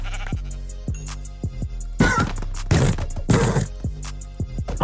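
Sheep in a Minecraft-style video game bleat over and over in short, clear, evenly spaced calls, with a few louder bursts of noise breaking in partway through.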